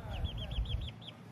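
Backyard hens cluck repeatedly in a steady, close series of short calls over low background rumble.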